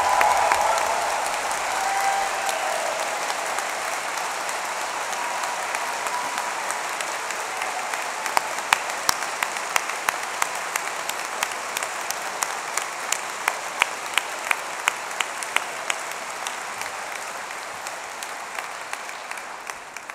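A large audience at an Open University degree ceremony in Manchester applauds its graduates with loud, sustained clapping that gradually thins into scattered, sharper individual claps toward the end.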